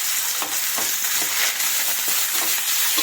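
Food sizzles steadily in a hot pan as it fries until reddened, with a dense, continuous hiss and a few soft stirring scrapes spaced through it, close and even in level.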